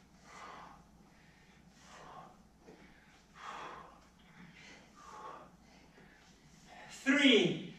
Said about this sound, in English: Breathe in, blow out.